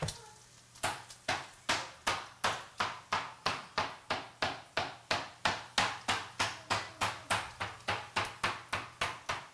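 Meat being pounded flat and thin with a mallet for Cuban cooking, close and loud, a steady run of about twenty-five sharp thuds in an even rhythm, nearly three blows a second, with no talking.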